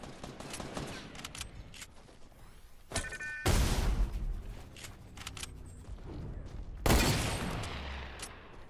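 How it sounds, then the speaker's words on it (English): Shotgun blasts in a first-person shooter video game, heavy booming shots at a few spaced moments among a busy stretch of gunfire and effects, fairly loud with no talking. "Oh, I have a shotgun, dude."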